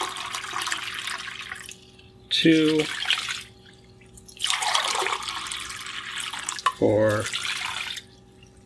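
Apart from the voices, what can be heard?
pouring water into bowl for sourdough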